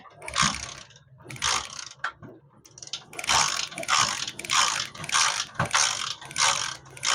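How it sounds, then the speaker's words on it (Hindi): Repeated bursts of crackling, ratchet-like electrical buzzing from a motorcycle shorting on its current sets while being kick-started in rain, roughly a second on and off in an uneven rhythm, close and fairly loud with no talking. "ये आवाज है बेसिकली करंट सेटों पे शॉर्ट हो रहा है"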